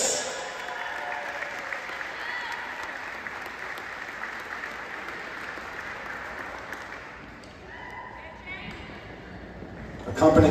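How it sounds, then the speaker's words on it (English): A crowd claps steadily in a gym at a women's and men's college basketball game, a broad, moderately distant wash that thins out near the end, followed by a sudden loud clatter. "Ladies and gentlemen, have another round of applause for Jen"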